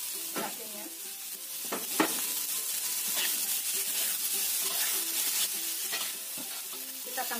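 Chili peppers stir-frying in a pan for tofu in sweet soy sauce: continuous sizzling with repeated scraping strokes of a spatula stirring, close and moderately loud, no talk.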